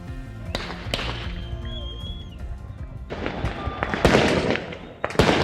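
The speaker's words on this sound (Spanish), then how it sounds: "Fuegos artificiales mezclados con cánticos y también disparos al aire." Fireworks and gunshots fired into the air at a crowded funeral in a Valparaíso cemetery, a series of loud sharp cracks and bangs over a dense crowd din that swells toward the end.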